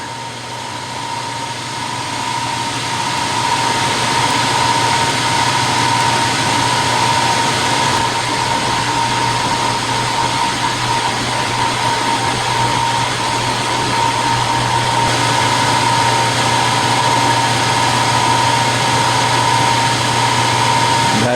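A milling machine taking the final cut of a keyway hums with a steady, continuous mechanical drone and motor whine, loud and unbroken throughout, with no talking.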